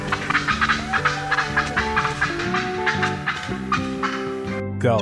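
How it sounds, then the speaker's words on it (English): A turkey gobbles in a rapid warbling burst of repeated notes, loud and close, followed by a few more gobbling phrases; no talking. "Turkey."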